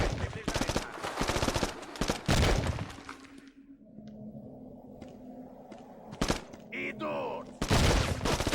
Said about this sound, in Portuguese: Tem um carinha atirando e eu não sei de onde é.